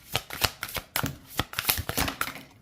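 Tarot cards are shuffled by hand at close range in a quick, uneven series of crisp riffles and slaps, one burst after another with short pauses between.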